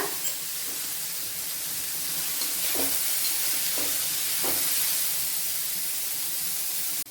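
Onions sautéing in a hot pan with a pinch of salt, giving a steady, close, even sizzle with a few soft scraping stirs partway through and no talking.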